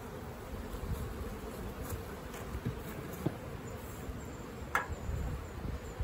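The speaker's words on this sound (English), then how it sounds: "I don't want my bees swarming." A low, steady honey bee buzz hums throughout around the hives, fairly quiet, with a few brief louder passes as bees fly near.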